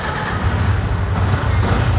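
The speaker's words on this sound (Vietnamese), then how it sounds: "Đây nổ máy con này cho mọi người nghe nè." Engine of a 2016 motorbike running at a steady low throb, close and fairly loud, with no talk over it.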